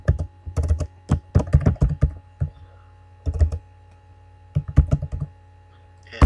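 Typing on a computer keyboard while entering a cell label in an Excel spreadsheet, heard as close, crisp clusters of key clacks in several short bursts separated by brief pauses over a faint hum.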